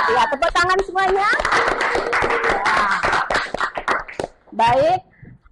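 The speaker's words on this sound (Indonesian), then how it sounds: "Ya, tepuk tangan semuanya." Schoolchildren in an Indonesian middle school classroom clap their hands together in a dense, sustained burst of rhythmic clapping under a teacher's voice and chatter, ending abruptly.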